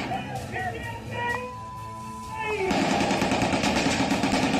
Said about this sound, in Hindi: बंदूक से फायरिंग करते आतंकी